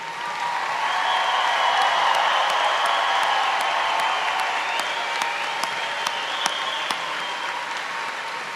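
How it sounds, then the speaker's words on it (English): A high school graduation audience gives the graduates a long, steady round of applause. Dense clapping fills the hall at moderate loudness, with a few sharper claps standing out near the front. "will you join me in giving our graduates one more round of applause?"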